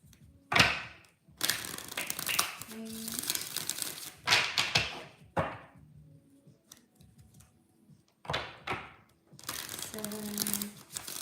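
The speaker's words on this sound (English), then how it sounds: "8 shuffles for Scorpios." Tarot cards shuffled by hand during a zodiac reading, giving repeated bursts of crisp riffling and slapping with short pauses between shuffles, close and fairly loud with no talk.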